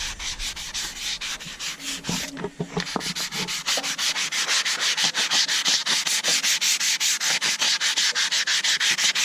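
Close, loud back-and-forth rasping as corrosion is sanded off the edge of a car engine's valve cover, with a brief pause before settling into fast, evenly rhythmic strokes.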